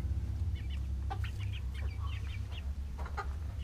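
Chickens cluck softly inside their coop, a series of close, short, scattered clucks and murmurs over a steady low hum, with no talking.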